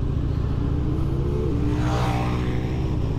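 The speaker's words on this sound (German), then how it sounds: "Ja, er gibt Gas." A motorcycle on a group ride-out through the Lower Rhine countryside accelerates with a loud, close, steady engine drone whose pitch climbs as it revs, without talk.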